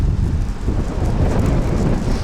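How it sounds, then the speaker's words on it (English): Strong wind buffets a microphone outdoors in Saitama, Japan, a cold winter day, producing deep rumbling gusts that surge continuously and crowd out everything else. "it's super windy"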